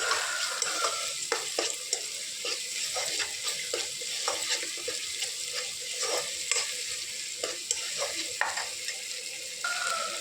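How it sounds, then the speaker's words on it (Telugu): Masala for chicken curry fries in oil in a pan, producing a steady crackling sizzle broken by repeated scraping strokes of a stirring spoon, with no voices. "సో ఇప్పుడు ఈ మసాలా బాగా ఫ్రై అవ్వాలి గోల్డెన్ బ్రౌన్ కలర్లో"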